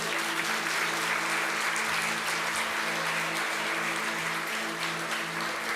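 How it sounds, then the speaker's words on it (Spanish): A church congregation applauds for its children during a service, a dense, even clapping that holds steady and loud for several seconds with a faint steady tone beneath. "Damos un aplauso al Señor por nuestros niños."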